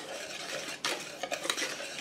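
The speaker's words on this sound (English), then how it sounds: "I'm just going to give it a quick mix." Bread ingredients are mixed quickly in a bowl, giving a steady scraping stir with sharper clinks from a utensil against the bowl. It is close and moderately loud, with no talking.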